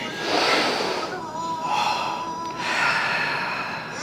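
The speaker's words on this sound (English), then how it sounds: "Take a deep breath." During a breathing exercise, a person draws two slow, deep, audible breaths, each rising and fading gently, close and fairly quiet.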